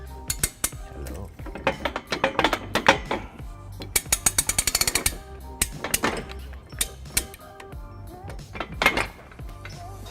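A ratchet with a 3/4 inch socket snugs up trailer hitch hardware on a 2013 Chevrolet Impala, giving irregular bursts of close metallic clicking and clinking with knocks of handled parts between them and no talk.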